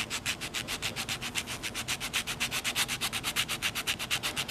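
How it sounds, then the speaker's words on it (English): Sandpaper rubbed by hand along the handle of a scratch awl, a steady run of rhythmic back-and-forth rasping strokes, close and even, with no talking. "Sometimes I find if I use all the sandpaper, but push less, like use the whole 3 inches or whatever the sandpaper, but don't push as hard"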